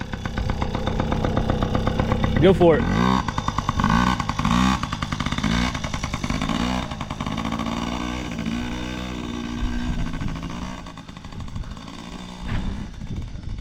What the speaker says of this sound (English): Ransom wants me to start his motorcycle.